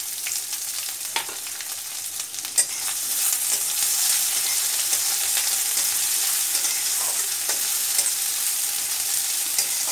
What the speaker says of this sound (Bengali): পেঁয়াজটাকেও ভালো করে ভেজে নিতে হবে